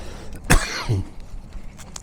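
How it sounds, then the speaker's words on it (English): A single sharp cough bursts out close by, followed by a short raspy throat sound, then quiet outdoor background. "Even though I'm coughing and hacking."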